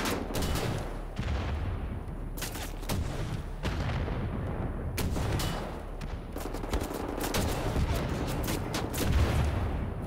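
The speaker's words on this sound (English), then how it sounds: "we're gonna try out this rocket launcher" A rocket launcher in the video game Wolfenstein: The New Order fires over and over, and several loud booming blasts and explosions punch through a steady background of game noise.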